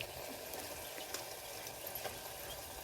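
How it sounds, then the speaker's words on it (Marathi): Water runs steadily into a pot of fish curry on a wood-fired stove, a continuous splashing hiss, fairly quiet and unbroken, with no voices. "आणि लागेल तेवढं पाणी टाकायचं त्यामध्ये"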